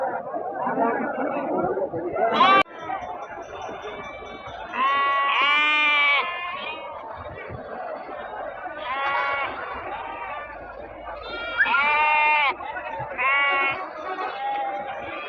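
Sheep and goats bleat repeatedly at a Tuesday-morning livestock market in Kerur, with several loud, wavering calls rising over steady crowd chatter and people talking nearby.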